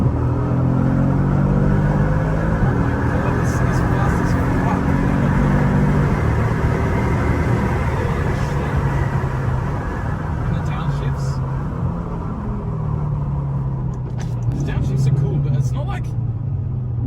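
A $200K performance car driven in performance mode, its engine a steady deep rumble from inside the cabin throughout, with a person talking over it.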